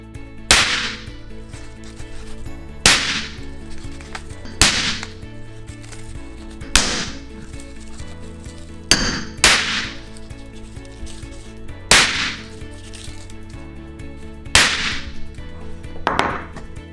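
Sharp cracking bangs of toy caps going off under repeated hammer strikes, about eight loud snaps spaced a second or two apart, close by.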